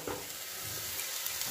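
Cooked rice stirred into a frying paste of ground peas and coriander leaves in a kadai, giving a dense continuous sizzle with soft stirring scrapes, no voices.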